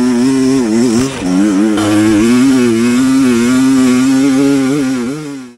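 Kawasaki KLX 300 dual-sport motorcycle engine running loud and close, a steady mid-pitched buzz with brief throttle dips and revs, heard alone without talk.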